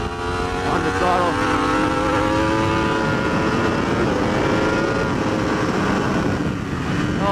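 A 2015-or-later Yamaha R1 superbike on the throttle at Ridge race track, its engine a loud, steady, high-revving roar that holds close and continuous throughout, with rising and falling pitch as the rider works through the gears.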